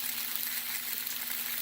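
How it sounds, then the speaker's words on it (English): Habanero and jalapeno peppers roast in a hot pan, giving a steady, even sizzle and hiss that runs without a break, with a faint low hum underneath. "I do like to cook the habaneros and the jalapenos, give them a nice flavor"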